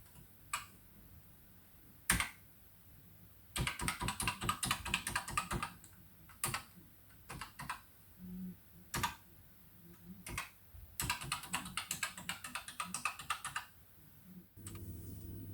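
Bursts of rapid key clacks on a BBC Micro Export model computer keyboard under refurbishment, with isolated single presses between runs of fast typing, close and fairly loud.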